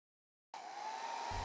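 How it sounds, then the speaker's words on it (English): A hair dryer switches on abruptly and blows with a steady whooshing hum, close by, drying glue on wire-and-nail-polish jewelry leaves. "When one leaf area is filled with glue, I use my dryer."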